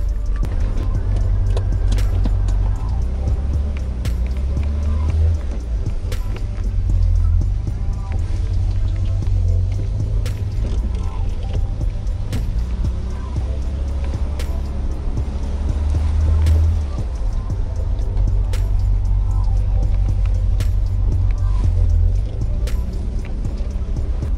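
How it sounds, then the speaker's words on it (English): A 1986 BMW E30 Baur convertible drives along on a sunny day in Sweden, its engine droning low and steady with continuous road and wind rumble heard from inside the open car for the full stretch. "This is a convertible E30 from 1986, and it's a nice day here today in Sweden, so we're going to take it out for a little drive"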